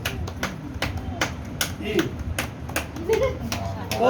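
Hands clap in a quick series of sharp, fairly close claps at a family one-year celebration, with people talking and a voice over them.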